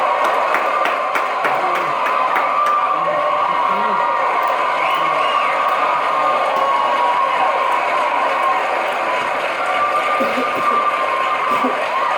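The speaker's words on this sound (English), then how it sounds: "Everybody stand up and give a round of applause for Dave" A talk show studio audience stands and cheers and applauds for a guest named Dave, a steady roar of clapping and voices filling the whole stretch at even loudness.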